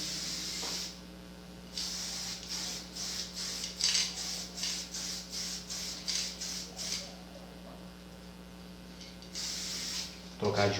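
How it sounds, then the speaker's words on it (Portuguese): Aerosol spray can spraying graffiti paint in repeated short hissing bursts, some of them fast, with a longer spray near the end, close and steady under a low constant hum, with faint speech. "O jato do spray vai para esse lado."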